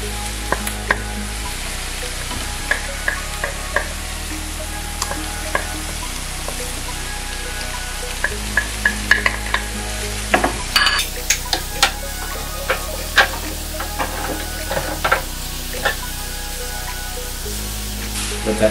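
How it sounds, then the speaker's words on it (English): Ginger and garlic fry in a pan for a coconut cream fish sauce, keeping up a continuous sizzle while a utensil stirs and scrapes against the pan in frequent light taps, with a low hum underneath. "In goes your ginger and garlic."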